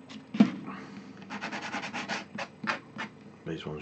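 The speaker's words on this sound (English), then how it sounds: "quick rub on the sanding block" A plastic model kit part for a Dark Ops Boulangerie building is rubbed on a sanding block in several quick, close scraping strokes with no talk.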